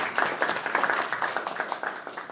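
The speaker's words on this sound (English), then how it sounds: "Let's clap for him." An audience claps at the close of a doctoral presentation at an academic event, a moderate room's worth of hands giving quick, uneven claps that stay fairly light and close.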